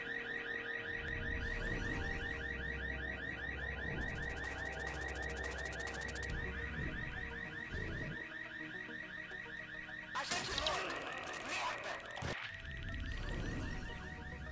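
A car alarm blares steadily inside the video game Watch Dogs 2, its repeating electronic siren cycling without pause over a low engine-like drone, with a sudden burst of louder noise near the end.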